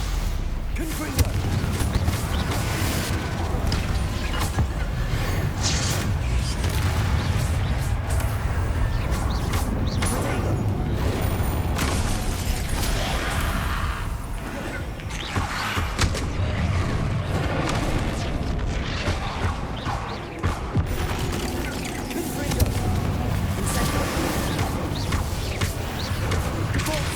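Explosive Confringo curse blasts and spell-combat noise in Hogwarts Legacy form a loud, continuous wash of booms and crackling impacts, with a voice speaking now and then under the din.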